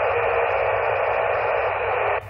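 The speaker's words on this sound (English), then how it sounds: "That radio is so way off channel 37" Radio tuned off channel, giving a continuous hiss of static with a faint crackle at a steady low level that cuts off abruptly just before the end.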